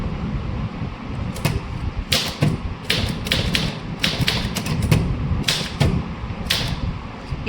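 Typing an official letter on a manual typewriter: irregular bursts of sharp key strikes and carriage clacks over a muffled background, close and fairly loud.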